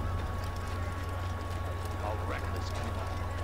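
Hooves from a white horse in the Assassin's Creed video game clip-clop in a steady rhythm under a constant low game hum, the footfalls moderately close and soft, with a brief chirping accent partway through.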